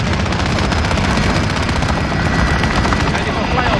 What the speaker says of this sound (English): Friendly chopper gunner inbound.